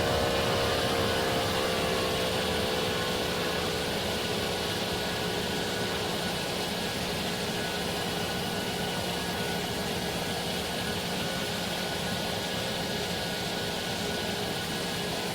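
A Roblox Project Flight airplane's engines at 70% throttle during takeoff roll give a steady, loud, broadband roar with a whining hum. It stays constant and unbroken throughout, with no voices.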